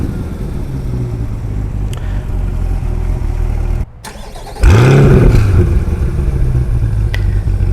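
A 2022 Chevrolet C8 Corvette with an aftermarket exhaust idling with a steady rumble, then a brief cut before the engine fires and revs up loudly with a rising, falling exhaust bark before settling into a deep, loud, close idle.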